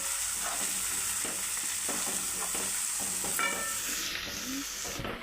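A spoon stirs a prawn curry masala with turmeric in a hot pan, scraping and knocking in an uneven rhythm over a steady oily sizzle, close up with no talking.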